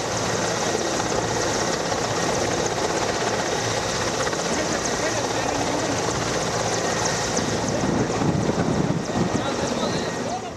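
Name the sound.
Cheetah helicopters flying in Air Force show rehearsal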